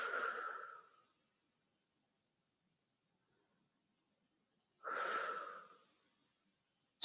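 Two slow, deep breaths taken during a stretching exercise session, each lasting about a second with a long quiet pause between them, close and soft.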